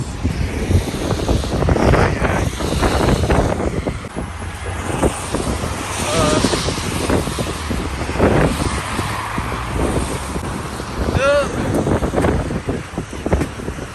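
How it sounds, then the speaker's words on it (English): Wind gusts across Trinity Bridge in St. Petersburg, buffeting the microphone with loud, rumbling, uneven bursts of noise over a faint wash of passing traffic. "The wind's blowing"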